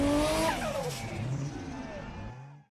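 Ford Focus RS with its muffler deleted, a loud, raspy exhaust roar that rises and falls as the engine revs, then trails off and cuts out.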